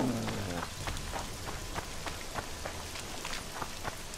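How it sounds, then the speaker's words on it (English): Rain in The Witcher 2 video game, a steady close patter of drops hitting surfaces with scattered louder splashes throughout. "It's raining, it's pouring."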